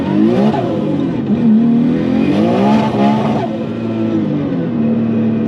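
A 900-horsepower Nissan Skyline engine revs hard and steadily while its tires are heated, a loud continuous roar with rising and falling pitch sweeps.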